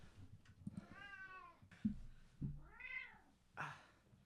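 Sasha, a pet cat, meows several times in a row, drawn-out rising and falling cries close by and fairly quiet, with soft thumps and movement between them and no talking.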